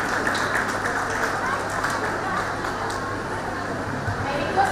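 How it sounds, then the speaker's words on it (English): Audience applause at a college spring fest rises as a steady, dense wash of clapping from a crowd welcoming a guest, holding at an even level for several seconds. "Let's give him a big round of applause."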